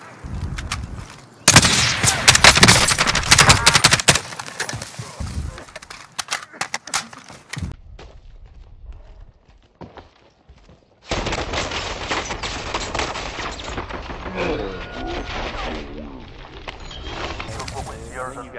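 Bursts of automatic gunfire from a Call of Duty match, a loud rapid rattle early on, a pause with sparse shots, then sustained firing with players talking over it.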